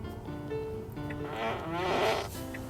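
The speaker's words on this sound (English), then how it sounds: "Or you can do fart with indicator." Novelty fart sound from a 2024 Tesla Model Y, set off by switching on the turn indicator: a loud, close, buzzy blast that swells to a peak in the middle and then tapers, with a faint rhythmic click running beneath it.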